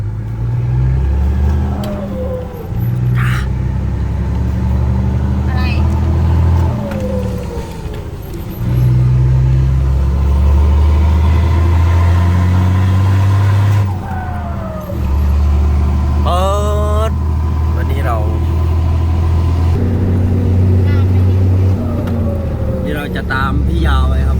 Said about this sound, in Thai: ขับรถเทเลอร์ไปนี่นะ